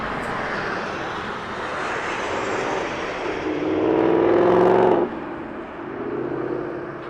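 A United Boeing 737 airliner passes at Las Vegas Harry Reid International Airport, its jet roar swelling steadily to a loud peak and then dropping off abruptly, with broad engine rumble and whine throughout.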